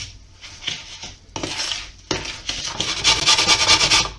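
A spoon scrapes and clinks around a bowl, stirring semolina with kefir, a pinch of salt and sugar for a pumpkin semolina cake; irregular scraping strokes grow busier and louder toward the end, close up with no talk.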